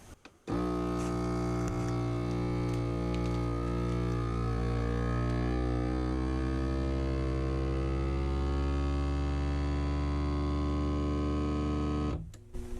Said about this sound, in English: we're going to close this and we're going to press vacuum seal